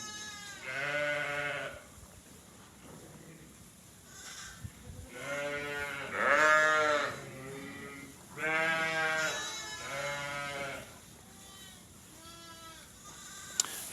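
A Gritstone sheep bleats repeatedly during lambing, producing a series of strained, wavering cries in irregular bursts, fairly close and clear against quiet farm surroundings.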